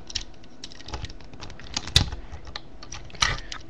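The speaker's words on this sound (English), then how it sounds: "They make a really nice clicking sound" Parts of an Armada Optimus Prime transforming toy click and ratchet as they move, giving a run of small, irregular, close-up plastic clicks with a few sharper snaps. No one speaks.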